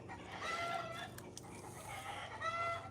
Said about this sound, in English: chickens won't shut up